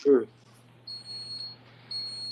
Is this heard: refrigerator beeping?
yes